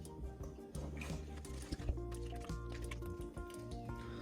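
Quiet wet squishing and sloshing as roughly 10% of the flour is stirred into water to make a pizza dough slurry, with soft drips and a few clinks over a low background hum.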